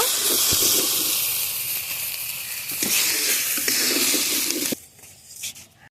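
Tomatoes sizzle in hot oil in a pan, a loud, steady hiss running for several seconds before cutting off sharply and leaving a few faint crackles.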